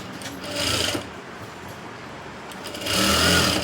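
Sewing machine stitching the back-side seam of a blouse: a steady whirring hum with two louder bursts of fast needle stitching, close up, with no talking.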